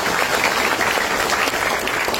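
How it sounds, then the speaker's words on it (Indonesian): Seminar audience breaks into applause, a short, dense and steady wash of many people clapping, close and fairly loud with no talking over it. "Tepuk tangan buat beliau."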